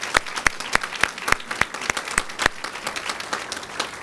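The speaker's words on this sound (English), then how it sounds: "Let's give them a round of applause." A room audience gives a round of applause; distinct sharp claps sound at a steady rhythm over a softer background patter, fairly close and moderately loud.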